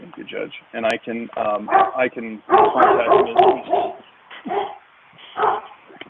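Dogs bark and yip indoors during a county court proceeding on an arrest warrant, coming in short bursts beneath a man's clear, close speech.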